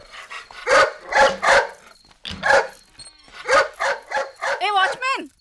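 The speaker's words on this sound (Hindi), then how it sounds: "निमी भौंक रहा है ना, उसे ले जा सुसु पार्टी के लिए।" A dog in a Hindi-dubbed film scene barks repeatedly in short bursts, sharp and close, ending in a string of higher yips and whimpers.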